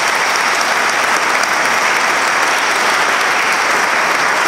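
Sustained applause fills a hall at a ceremonial opening of a digital humanities center, a dense, even clapping from a large audience lasting throughout at high volume.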